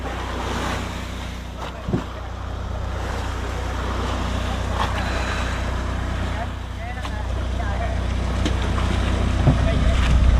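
A boat motor drones steadily in the background over wind and water noise on open water before dawn, with a brief knock partway through.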